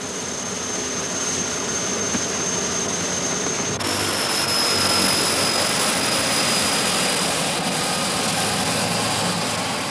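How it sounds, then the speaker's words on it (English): Engines of a 1950s-designed aircraft left running in bitter cold at the North Pole, a loud, steady jet-like roar with a high whine that shifts pitch partway through. "The pilot won't risk turning his engines off in the bitter cold."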